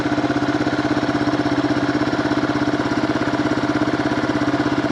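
A Yamaha TW200 motorcycle engine idles with a fast, steady thumping pulse, loud and close, running evenly throughout without talk.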